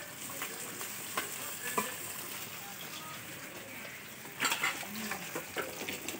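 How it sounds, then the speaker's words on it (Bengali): Fish fries in a pan at home with a steady crackling sizzle, punctuated by bursts of spattering and a few clinks of utensils, with faint voices nearby. "মাছ ভাজা হবে"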